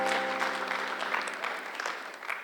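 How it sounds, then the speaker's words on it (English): Crowd applause at a live comedy show in Vail, Arizona, a dense steady clapping wash filling the room that eases slightly toward the end, with no voices over it. "give Fred another round of applause"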